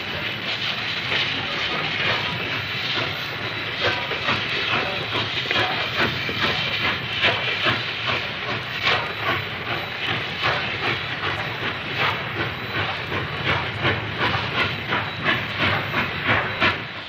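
A Mikado-type steam locomotive (Class H5R) chuffs and hisses steadily at close range while moving coal cars, with rhythmic exhaust beats and clanking rail noise running throughout.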